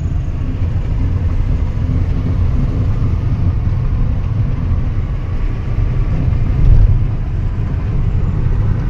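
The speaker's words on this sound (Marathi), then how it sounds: "बघा 4थ्यावर आहे सध्या गाडी 80वर." A Hyundai Creta diesel car cruises in fourth gear at about 80, heard from inside as a loud, steady low rumble of engine and road noise with a brief swell near the end and no talking.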